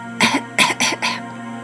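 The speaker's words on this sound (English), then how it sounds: "She coughed gently" A soft, gentle cough in a few short bursts, close and clear, followed by quiet.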